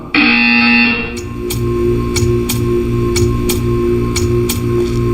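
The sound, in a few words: buzzer in the video game Portal 2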